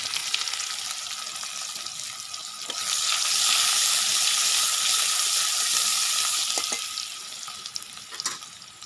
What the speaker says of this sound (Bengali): এবার দিয়ে দেব পেঁয়াজ কুচি। কাইটে রাখা পেঁয়াজগুলো দিয়ে দিলাম।